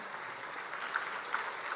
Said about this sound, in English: I would ask you to rise and give them a warm round of applause